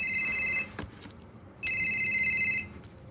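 A telephone rings in two long electronic trills separated by a pause, with no one answering, in a quiet room with faint background noise.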